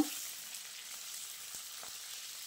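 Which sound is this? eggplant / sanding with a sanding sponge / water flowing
eggplant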